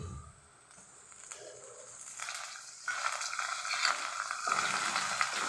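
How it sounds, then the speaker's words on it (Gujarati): Tomatoes sautéing with browned onions in a pan give a steady, close sizzle and hiss that swells louder partway through and continues alone with no talking. "ટમેટાને સહેજ સાતરી લેશું કચાશ દૂર થાય ત્યાં સુધી"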